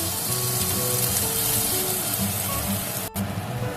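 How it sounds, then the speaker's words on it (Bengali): Ginger-garlic paste frying in a pan for a fish-head muri ghonto, a steady close hiss of sizzling with faint low clatter of stirring, continuous for several seconds before a brief break. "ভালো করে ভেজে নেব।"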